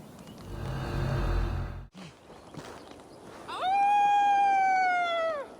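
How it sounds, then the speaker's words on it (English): A drawn-out howl rises at about 3.5 seconds and holds steady for roughly two seconds before tapering, a loud clear tonal call used as a signal in Assassin's Creed Valhalla, following earlier rumbling noise and a brief pause. "You'll hear me howl as the men approach."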